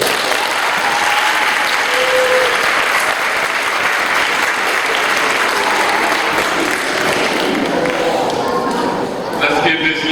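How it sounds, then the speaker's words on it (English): An audience claps steadily through a school's 8th-grade graduation commencement, a dense sustained wash of applause from a large crowd. A voice speaks over the clapping, and faint whoops come through near the end. "please give a warm round of applause to our speaker"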